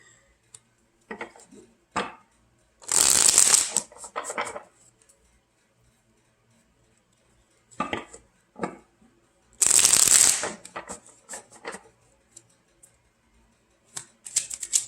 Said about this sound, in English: Oops, that was just not a very good shuffle, was it? Let's try that again.